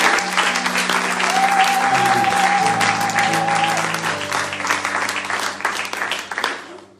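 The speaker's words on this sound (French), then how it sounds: "Est-ce que tu peux acclamer le Seigneur?" A church congregation applauding together, dense loud clapping that carries on steadily and then slowly thins out toward the end, with some voices mixed into the crowd.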